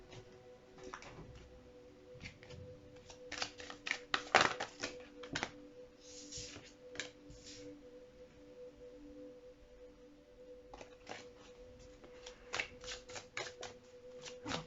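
Tarot cards shuffled by hand in a quiet room, a run of soft riffling flicks and taps in bursts, close and fairly faint, with a steady low hum beneath and no talking.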